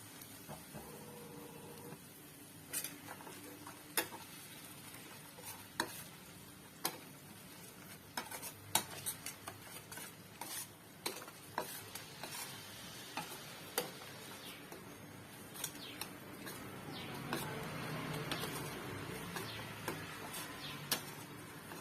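A spoon scrapes and taps repeatedly against a pan while cauliflower masala is stirred and sautéed in mustard oil over low heat, the irregular clinks spread throughout, with a soft sizzle rising near the end and no talking.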